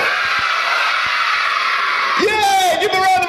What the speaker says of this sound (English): we're going to shout Santa as loud as we can